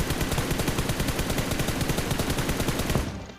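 Rapid automatic gunfire in a battle royale shooter, a dense, loud burst of evenly spaced shots rattling steadily for about three seconds before cutting off abruptly.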